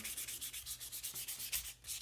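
Hand polishing of aluminum vintage motorcycle parts, a quiet, close rhythmic rubbing with regular back-and-forth strokes, alone with no voices.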